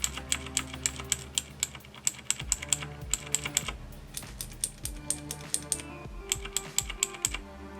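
A Razer BlackWidow Chroma mechanical keyboard typed steadily for several seconds, producing dense, crisp clacking keystrokes in an even rhythm with brief gaps, close-up and clear without any voices.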